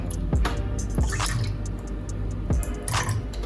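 Rose water drips in a few distinct plops into a Jamaican-style bread pudding mix, each drop a short liquid blip heard up close against a faint background hiss.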